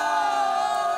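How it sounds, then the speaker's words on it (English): Sustained crowd noise at a high school football game, a dense, steady roar of many voices and cheers filling the stands, loud and continuous with no single voice standing out. "We got a lively crowd here today"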